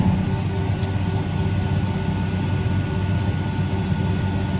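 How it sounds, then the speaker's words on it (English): A John Deere 8RX tractor runs throttled up while its PTO shaft drives a Haulmaster grain cart, giving a constant, heavy low-pitched mechanical drone with a faint whine on top. "I'm going to start my PTO shaft."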